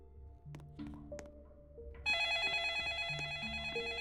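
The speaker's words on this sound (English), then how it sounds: "Where's that phone coming from?" A telephone rings in a Roblox game, first under a soft melodic tune, then a bright, loud electronic ring that sustains steadily to the end.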